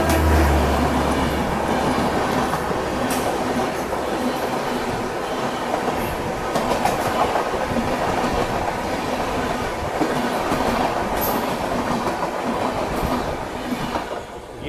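The Gatimaan Express speeding past on its run, a loud steady roar of wheels and rushing air with rhythmic clacking over the rails that holds throughout and eases slightly at the end.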